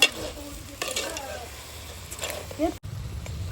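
Tomatoes sautéing in oil in a home kitchen, a soft sizzle with occasional stirring and clinks of utensils against the pan, while a person talks over it.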